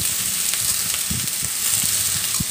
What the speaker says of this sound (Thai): ก็ผัดคลุกเข้าจนกระลำปีของเราสุกยุบตัวลงถึงจะทำการปรุงลยจ้ะเด้อ